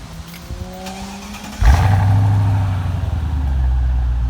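A car engine starts and revs sharply at about the one-and-a-half-second mark, then holds a loud, steady, slightly wavering roar with no talk.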